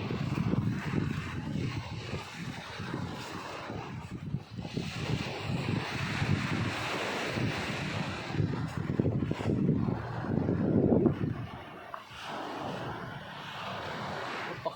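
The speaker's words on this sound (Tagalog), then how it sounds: "Dito malakas ang hangin sa tabing dagat." Strong seashore wind in Barangay Baroro, La Union, buffets the microphone in a continuous, roaring rush that swells and eases, with a low rumble underneath and no talking.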